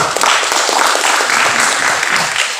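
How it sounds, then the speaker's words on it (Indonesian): An audience at an indoor discussion gives the Commission II chairman a short round of applause, dense steady clapping from many hands close by that lasts a few seconds without a break. "kita kasih aplaus sekali ke Pak Ketua Komisi 2"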